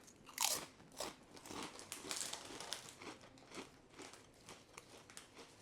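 Ruffles salt and vinegar ridged potato chips crunched and chewed close up, a series of sharp crisp bites followed by steady crackling mastication, with no talking.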